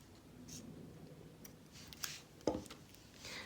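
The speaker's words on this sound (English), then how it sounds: "take my scissors and cut it at the very base" A quiet snip of scissors cuts beading thread close by, one sharp click standing out over faint room noise.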